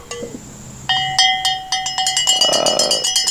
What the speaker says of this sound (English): just seeing the cowbell video playing